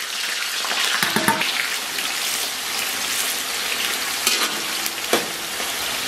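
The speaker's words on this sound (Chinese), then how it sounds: "油温三五成热，提前准备好的葱姜给它下里边" Scallions and ginger hit hot oil in a wok and sizzle steadily, crackling loud and close with brief sharp spatters and stirring scrapes.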